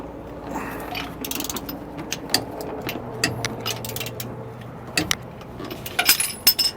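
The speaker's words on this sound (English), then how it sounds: "have a 1 1/8 inch socket that we're going to use to remove these" A hand ratchet with a 1 1/8 inch socket loosens bolts on a vehicle's steering stabilizer, working on the ground: repeated rapid pawl clicks in bursts with brief pauses, loud and close, no talking.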